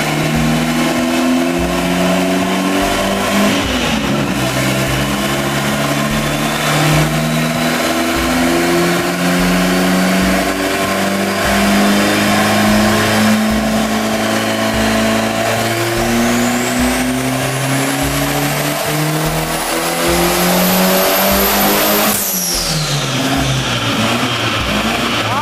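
A 1991 Volkswagen Voyage with a tuned 1.6 turbo engine revs loud and close, climbing and falling through repeated pulls, with a turbo whine sweeping upward and a sharp release near the end, and no voices.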